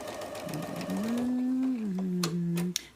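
A sewing machine stitches strips for a jelly roll race quilt, giving a steady near mechanical hum that runs for about three seconds with small shifts in pitch.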